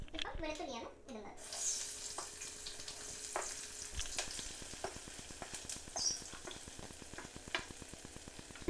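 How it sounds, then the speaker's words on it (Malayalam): Garlic dropped into hot oil after mustard seeds for a Kerala-style prawn pickle, giving a steady close sizzle and frying crackle with scattered pops and occasional stirring clicks, with no talk over it. "കടുക് പൊട്ടിക്കഴിഞ്ഞ് കഴിഞ്ഞാൽ വെളുത്തുള്ളിയാണ് അടുത്ത് ഇടുന്നത്."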